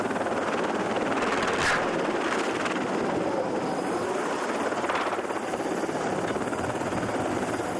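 A helicopter on an aircraft carrier flight deck roars steadily with rotor chop and turbine whine, loud and continuous with no pauses, amid broadband deck and wind noise.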